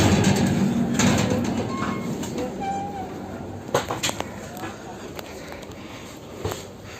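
Passengers board an Indian Railways AC 3-tier coach at a station in Ahmedabad: a steady rumbling interior hum with door slides, bumps and knocks, while people talk nearby.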